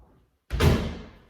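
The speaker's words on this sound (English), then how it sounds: "You're gonna take it, open up your car door, put it in there," A car door slams shut on a knotted towel, one sudden heavy thud after near silence, close and loud, trailing off with a short rattle and fade.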